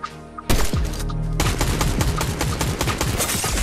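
Gunfire in a video game shooter match, with a burst of rapid automatic fire cracking close and loud over a busy game mix. Sharp, evenly spaced shots run on after an earlier lone report.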